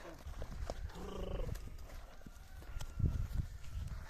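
Hooves of a black stallion clip-clop on hard ground in uneven steps, close by, with the horse snorting and people talking quietly in the background.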